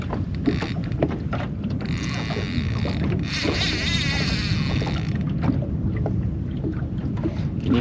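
Fishing reel drag ticking on a boat during a fight with a big fish, a fast ratcheting clicking running under water and boat noise for several seconds, with brief voices nearby.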